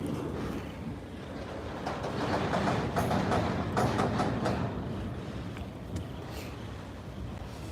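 A freight train with hopper cars rolls past, a broad continuous rumble and rattle swelling in the middle and easing off, with some wind buffeting.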